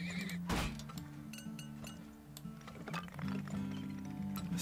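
A horse in the video game Turmoil lets out a neigh amid clinking and clip-clop game sounds, with layered tonal music or effects humming beneath.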